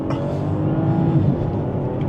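A BMW X5 45e plug-in hybrid with its B58 six-cylinder engine accelerates hard, a steady loud engine drone heard from inside the cabin with a sustained whirring rise and no talk.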